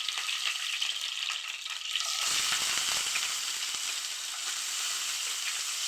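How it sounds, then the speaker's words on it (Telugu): Green chillies and then onion frying in hot oil, a dense, steady sizzle that swells louder after about two seconds as more goes into the pan and keeps crackling without pause, with no voices. "బాగా ఫ్రై చేసుకోవాలి."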